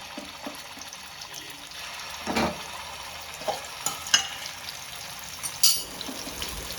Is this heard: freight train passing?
no